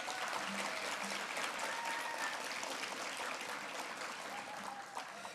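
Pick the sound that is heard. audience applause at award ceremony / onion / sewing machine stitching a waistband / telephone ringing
audience applause at award ceremony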